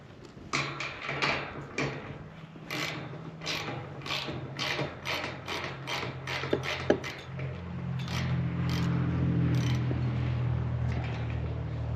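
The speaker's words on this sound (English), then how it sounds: "the first thing I've got to do is loosen the hinge" A Milwaukee M12 hammer drill/driver loosens a bolt on a gate hinge, a rapid series of ratcheting impact bursts with clicks and creaks, followed by a steadier low mechanical whir toward the end, close and with no talking.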